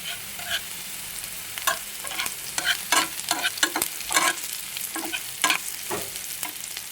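Nigella seeds crackling in hot oil, a soft sizzle under a series of bright, irregular pops and spatters bunched through the middle, close and unaccompanied by speech.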